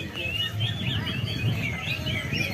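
Birds call repeatedly outdoors during a bird competition, near banana bait, with bright chirps and twittering running steadily through the clip over a low background murmur.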